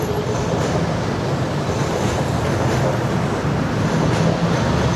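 A loud, steady rumbling roar of the BTS Skytrain passing overhead at Siam Square, Bangkok, filling the space with continuous low noise and no clear voices.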